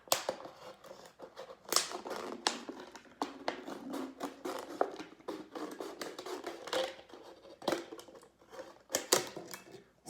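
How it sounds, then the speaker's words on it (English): Scissors cut around a plastic bottle in close, irregular snips and crunches, with sharp crackling bursts of the plastic between quieter scraping handling sounds. "I'm gonna put the scissors back into the bottle and cut around until I've cut the bottle in half."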